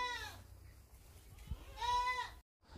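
Goats on a Thai dairy goat farm give two loud, wavering bleats close by, one at the start and one near the end, separated by quieter farm background.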